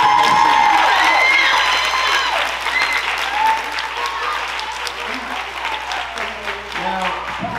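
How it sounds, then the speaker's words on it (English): A concert audience applauds warmly, steady clapping that gradually thins out, with a few cheers mixed in. "Can we give them a round of applause?"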